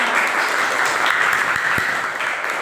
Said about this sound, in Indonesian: Oke, kasih aplaus dulu teman-teman.